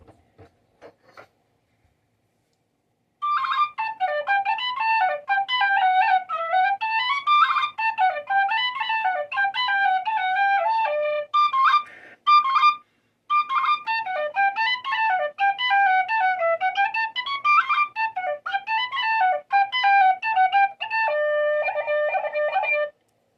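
Irish tin whistle playing a lively melody, clear and close, with a brief pause near the middle before the tune continues alone.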